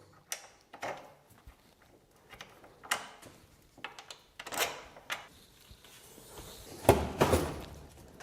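Bolts being fitted to the brake caliper of a 72V 2000W electric dirt bike, heard as close metallic clicks, ratcheting and tool taps in irregular bursts, growing louder toward the end, with no talking.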